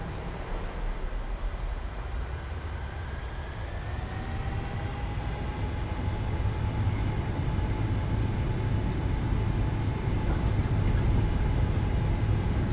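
Simulated jet engines of a PMDG 737-8 spool up during a Microsoft Flight Simulator 2020 takeoff roll for Norwegian, a steady loud rumble and roar that builds and grows louder after a few seconds, with rising whine tones and no talk.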